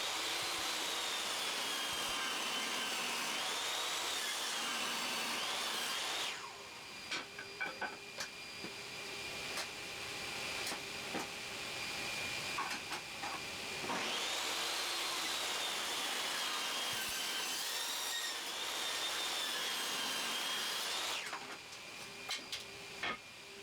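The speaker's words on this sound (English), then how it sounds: "On the table saw with a almost kickback on the second cut, I got it done at 10 degrees." A table saw rips a 2x3 board at a 10-degree angle, its loud steady whine rising as the blade cuts and dropping in between, two long passes with clattering handling noise between them.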